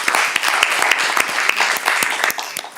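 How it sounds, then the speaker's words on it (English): A round of applause for faculty and students at a school board meeting, with steady, dense clapping from a room of people throughout, a few voices faintly underneath. "give them a round of applause for doing that for us."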